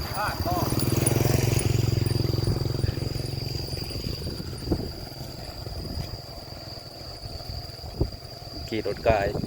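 A motorcycle rides along a flooded village road in rural Laos, its engine droning loud and close before fading, with insects buzzing in the background and someone talking throughout.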